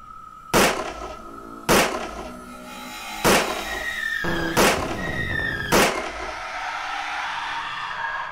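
Five loud gunshots ring out at irregular intervals in the horror video game The Pale Man, each a sharp blast followed by a lingering echo, with a steady low ambient hum underneath.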